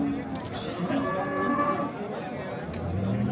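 A cow lows in a long, drawn-out moo at a busy livestock bazaar, with a second deeper call near the end, heard over crowd chatter and voices.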